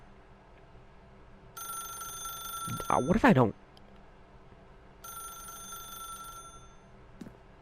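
An old-style ringing telephone in the video game The Stanley Parable: two bursts of electronic ring, the first briefly interrupted by a man's speech, with quiet room tone between.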